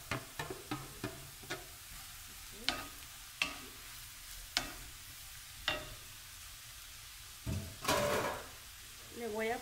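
Eggplant added to lightly sautéed onion and garlic sizzles softly in a pan, with repeated close spoon scrapes and knocks at irregular intervals over the quiet frying.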